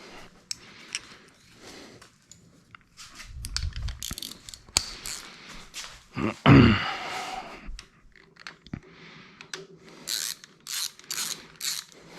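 A ratchet wrench clicks in short bursts while tightening bolts during assembly of a 360 Magnum engine, with intermittent clanks and handling noises close by and no speech.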